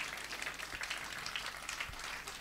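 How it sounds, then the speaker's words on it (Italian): An audience at the GiroSardegna 2021 award ceremony applauds the organisers with a dense, steady wash of clapping heard from a distance, fairly faint throughout. "Chiamo l'applauso per quelli che hanno collaborato con me per l'organizzazione."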